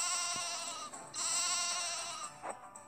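Cartoonish sheep bleating in a children's animal-care video game, a sustained, wavering, harmonic bleat over bright game music, fairly loud and continuous.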